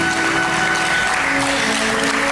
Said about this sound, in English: So please, a big round of applause for them.